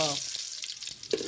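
Cumin seeds and onion are added to hot oil for dal tempering, producing a loud, dense sizzling crackle with a few sharper pops.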